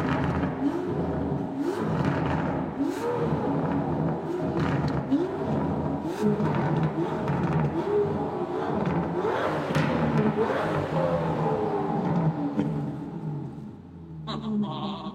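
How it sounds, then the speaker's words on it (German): An Aston Martin Valour engine in track mode idles and then revs quickly in repeated sharp bursts, each rising and falling, loud and close throughout, settling back toward idle at the end. "Der klingt so geil. Vor allem, wie schnell dieser Motor hochdreht."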